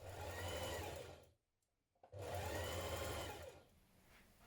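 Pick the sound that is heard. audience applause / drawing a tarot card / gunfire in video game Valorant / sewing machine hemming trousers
sewing machine hemming trousers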